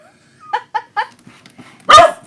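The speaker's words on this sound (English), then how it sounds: "Bella, Mama's attack dog." A pet dog named Bella, in a home, lets out three quick close barks followed by a louder, longer bark after a short pause.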